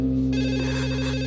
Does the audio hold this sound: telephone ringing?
yes